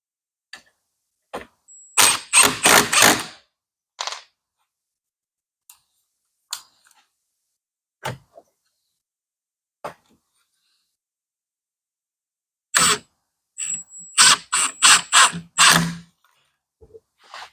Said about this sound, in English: And screw them in.